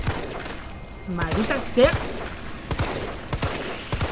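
Gunfire in the video game Resident Evil 3 Remake comes as sharp single shots spaced out over a few seconds, with someone talking and muttering between them.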